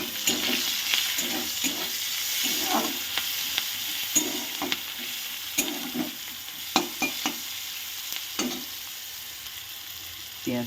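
Chopped onion and slit green chillies fry in a pan with a steady close sizzle, while a spatula scrapes and knocks through them in repeated stirs.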